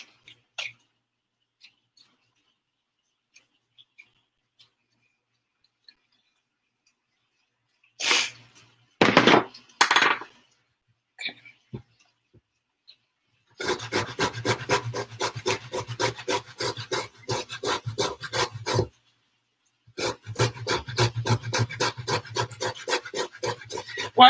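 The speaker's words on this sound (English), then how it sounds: "this to me is the easiest way to peel ginger. It's with" Spoon scraping the skin off organic ginger in a home kitchen: dense rapid rasping strokes in two long bursts after a few brief scrapes and knocks, close and fairly loud, with no talking.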